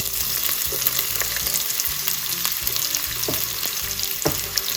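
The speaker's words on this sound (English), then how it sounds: "let this fry for maybe a minute or so." Garlic and onion sizzle in a pan turned down from high to medium heat, a steady close crackling fry with occasional stirring clicks and no voices.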